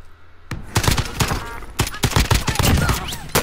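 Rapid bursts of automatic gunfire in the video game Call of Duty Warzone, loud and close after a brief quiet start, with shots overlapping in dense clusters while a player speaks over them.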